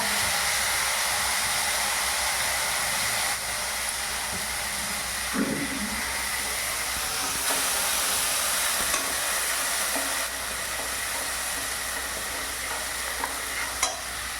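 Onion, tomato, garam masala paste and ginger for restaurant-style palak paneer fry in a pan with a continuous loud sizzle and hiss, a steady, close sound broken only by a few small scrapes and knocks.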